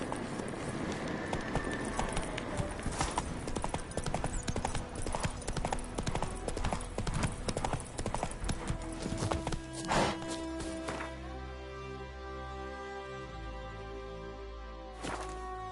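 Geralt's horse Roach trotting in The Witcher 3, a steady run of hoof clip-clops with game ambience and a brief whinny, continuing close and loud through the whole stretch.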